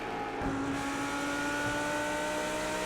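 A Lamborghini GT3 race car engine in the iRacing sim at Spa pulls hard under throttle, a steady sustained drone rising in pitch after a brief shift, loud and alone.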